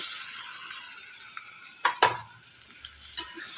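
Potatoes fry in spice masala with an even, continuous sizzle, interrupted by a couple of sharp clanks of a utensil against the pan.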